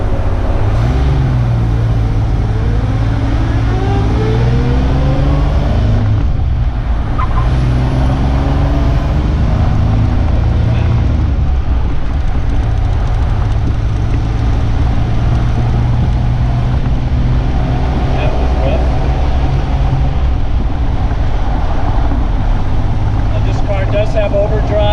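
A 1967 Austin Healey 3000 MK3 BJ8 engine runs steadily as a loud, continuous low rumble, heard from inside the car while it drives in fourth gear with overdrive.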